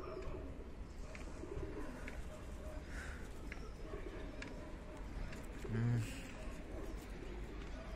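Pet Punjabi chatri pigeons give a single soft, low coo partway through, faint over a steady outdoor background hum with distant voices.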